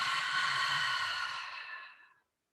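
A single long, breathy exhale during a yoga session, close and soft, sighing out for about two seconds before fading into silence.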